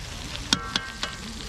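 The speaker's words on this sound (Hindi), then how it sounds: "तो जनाब मक्खन का तड़का अगर ना लगे तो फिर कढ़ाई का मज़ा नहीं आता" Butter tadka sizzles in a pan for mutton karahi, a steady frying hiss punctuated by three sharp crackling pops, close and alone without talk.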